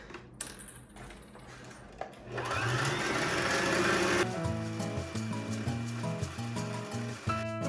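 A sewing machine runs in a steady mechanical whir while stitching stretch fabric for pants, first with fabric rustling and handling, then a long continuous loud run.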